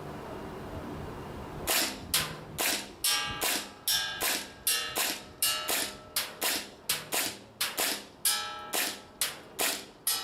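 Gas blowback airsoft pistol firing about twenty sharp, snappy shots from the same magazine at a 30-meter range, each crack followed by a short metallic slide clack, spaced in a steady rhythm with brief gaps.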